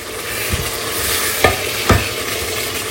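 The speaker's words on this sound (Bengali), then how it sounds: "আমি আস্তে আস্তে এখানে ছোলার জন্য পেঁয়াজটা কষা নিচ্ছি।" Onions sautéing in a pan for a Bengali chickpea curry, a steady close sizzle broken by a few slow spatula scrapes against the pan.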